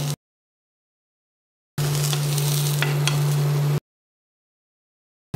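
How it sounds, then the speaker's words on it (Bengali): Brinjal pieces lightly frying in a pan give a steady, close sizzle for about two seconds, with a constant low hum underneath and a few sharper crackles, set between stretches of silence. "আমি বেগুনগুলোকে জাস্ট দুই পাশে এরকম একটু হালকা করে ভেজে নিব"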